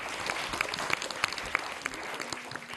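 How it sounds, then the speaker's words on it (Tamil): Audience gives a strong round of clapping for the cinematographer at a stage event, steady dense applause with sharp individual claps standing out, fairly close. "எங்க ஒளிப்பதிவாளர் ஒரு பலத்த கைத்தட்டல் கொடுக்கலாம்."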